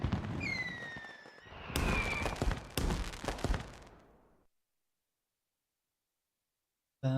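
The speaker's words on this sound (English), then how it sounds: "That's the fireworks show." Fireworks show in the Persona 5 The Phantom X video game: a whistling rise followed by a cluster of crackling bursts over a few seconds, then fading to silence before a brief final thump.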